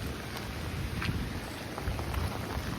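Strong wind roars steadily with rain pattering on surfaces as a cyclone approaches, a dense, continuous wash of noise with low rumbling gusts and no voices.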